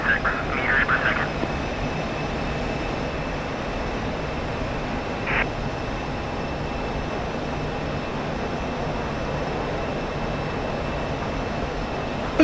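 An F-16C jet on landing approach in the DCS flight simulator, a steady, even engine whine and rushing drone held throughout at moderate level, with a couple of brief cockpit tones.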